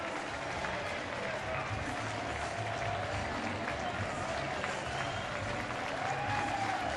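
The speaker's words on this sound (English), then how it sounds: "And the crowd giving him a nice ovation." A baseball crowd at a Houston at Pittsburgh game applauds a batter's first hit, a steady wash of clapping and crowd noise that holds evenly throughout, with a broadcaster's voice over it.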